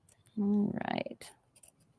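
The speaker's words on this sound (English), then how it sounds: "Little trim here and a trim there." Scissors trim fabric for quilting at a sewing table, a short close snip heard amid a voice talking.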